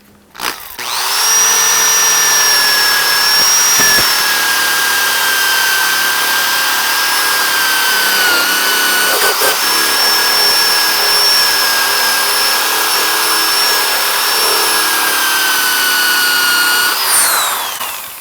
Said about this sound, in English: Now, this is a fiber rust stripper.